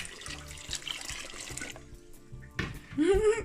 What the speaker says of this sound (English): I'm gonna put about 2 cups of cold water in it now.